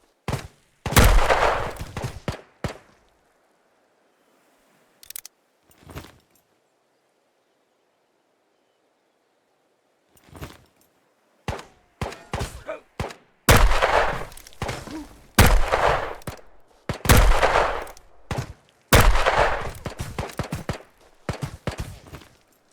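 Repeated bursts of rifle gunfire from an SKS in the video game Ghosts of Tabor come in clustered volleys, loud and sharp, separated by long quiet gaps.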